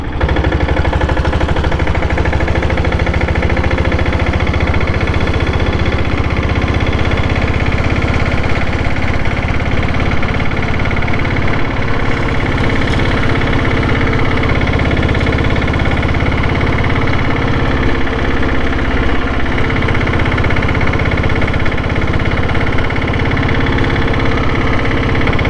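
A Royal Enfield Diesel Bullet motorcycle's diesel engine runs steadily and loudly throughout, a dense continuous thrum with mechanical vibration and no pauses, with no voices heard.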